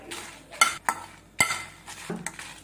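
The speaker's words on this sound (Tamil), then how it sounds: "ஒரு காஞ்ச மிளகாய் ஒரு 10 எடுத்துக்கலாம். நல்லா வறுத்துக்கோங்க." Dried red chillies are dry-roasted in a pan, with a spoon or spatula scraping and clinking against the metal in several sharp strokes over a faint hiss, close by and without voices.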